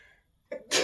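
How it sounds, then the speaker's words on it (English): A single close sneeze: a short intake of breath followed by a loud, sharp burst, with nothing else around it. "Oh, I'm going to sneeze again."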